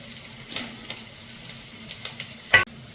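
Green chillies are stirred into chicken frying in a pan for Kerala-style chicken varattiyathu, with a close, moderate sizzle and a few spoon scrapes and clicks, the last one sharp just before the end.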